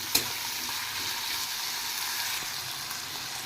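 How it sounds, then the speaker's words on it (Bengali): Potatoes and onions frying together with a pinch of salt in a home kitchen pan, a steady broadband sizzle that holds level throughout, with one brief clink near the start and no voices. "আর আলু আর পেঁয়াজটা আমি একসাথে ফ্রাই করব এবার।"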